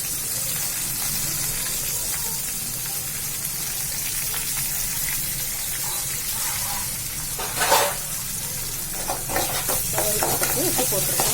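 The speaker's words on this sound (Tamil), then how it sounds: "கருவேப்பிலையும் வெங்காயமும் தாளிப்புக்கு" Curry leaves and onion sizzle in hot tempering oil with a steady hissing crackle, joined by a few stirring scrapes and clinks near the end, close up and uninterrupted by talk.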